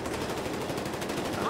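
Rapid automatic gunfire in Battlefield Hardline, a dense rattling burst running through a short stretch.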